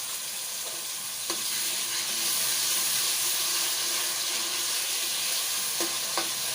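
Ginger, garlic and green chilli paste sizzles steadily in a hot pan, a loud continuous frying hiss with a few faint clicks of a spoon stirring.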